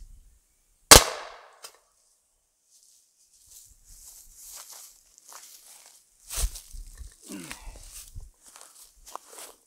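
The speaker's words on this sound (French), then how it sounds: "ça c'était certainement un de mes derniers tirs pour aujourd'hui" A single sharp report from an Umarex HDR68 air pistol loaded with Devastator pellets, close and loud, followed by quieter handling and movement noises with a faint voice later on.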